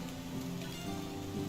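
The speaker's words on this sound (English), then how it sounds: "Try not to get rained on." Steady rain falls in the medieval survival game Medieval Dynasty, a continuous hiss with a low tonal hum beneath, even and unbroken throughout.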